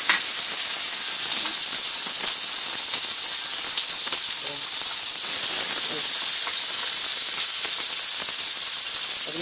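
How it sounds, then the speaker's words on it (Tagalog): Tofu frying in a hot pan with liquid, a loud continuous hiss and sizzle like steam, dense and steady from start to end, heard close with no talk. "Fry ko na yung ating tokwa."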